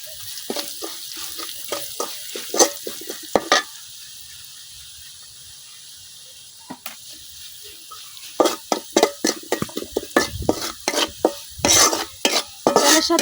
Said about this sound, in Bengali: ডালের সাথে আমি মশলাগুলা মিশিয়ে নিচ্ছি।